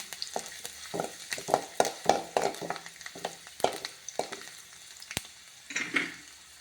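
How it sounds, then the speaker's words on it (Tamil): Steady sizzling of garlic frying in hot oil, with irregular crackles and stirring scrapes throughout, fairly close and moderately loud. "பூண்டு நல்லா வதங்கட்டும்."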